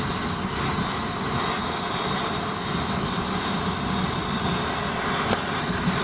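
A Swiss army petrol carburettor stove burner runs with a steady, loud, broadband roar, an unbroken rushing hiss throughout with no talk.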